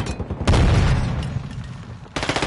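Teammate gunfire in Call of Duty on the Embassy map in a Domination match booms loudly and close by, then decays into rumble before a second rattling burst of rapid shots cuts in.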